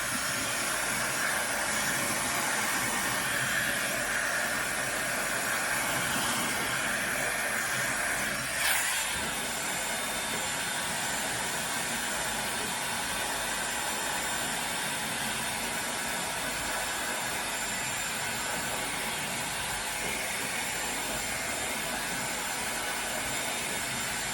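Dyson Airwrap hair styler blowing heat on hair roots, a continuous close, broad airy whoosh that stays steady throughout, with one brief handling bump partway through.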